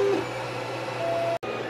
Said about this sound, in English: Now printing the 195 degree layer.